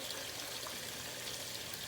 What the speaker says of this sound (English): it looks like the siphon will be getting ready to do its job